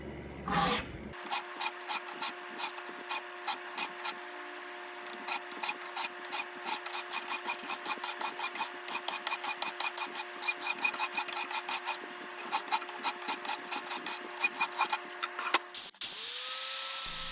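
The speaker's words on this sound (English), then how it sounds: "I'm going to work my way down to the center line with that file." A hand file rasps along a knife blade that was itself made from an old file, a long run of rhythmic back-and-forth strokes, close and even-paced, briefly interrupted by handling near the start and end.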